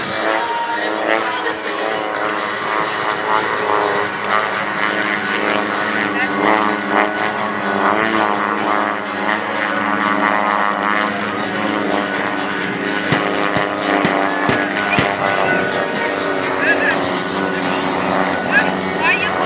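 A Vans RV-8 propeller plane flies over an airshow field in Texas, a sustained droning engine hum that holds steady throughout, mixed with announcer talk over a public address system.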